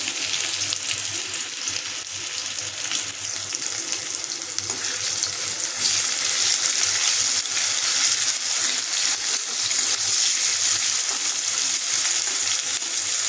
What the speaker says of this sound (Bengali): পেঁয়াজ কুচিগুলো একটু ভাজা ভাজা হলে